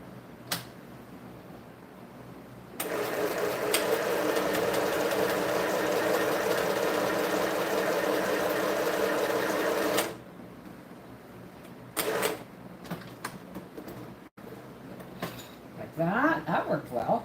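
A sewing machine stitches fabric in a steady, even run of rapid clicking for several seconds, close and moderately loud, then stops, followed by faint handling sounds and a brief voice.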